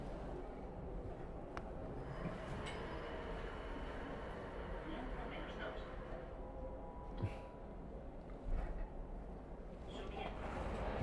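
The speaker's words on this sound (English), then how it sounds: "Pretty standard metro station." A train runs through a standard Madrid metro station, a steady rumble with a few brief squeals and clunks over about eleven seconds, amid a busy station hum at moderate distance.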